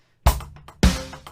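Basic drum beat on a kit, a kick and snare landing together in two loud hits about half a second apart, each ringing out briefly, played at tempo with no voices.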